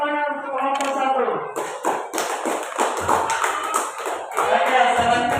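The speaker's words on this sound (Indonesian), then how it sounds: "sekarang berikan tepuk tangan untuk kelompok satu" A fourth-grade Islamic history class applauds a student group, with scattered claps and taps rising over murmuring children's voices after a teacher's voice at the start.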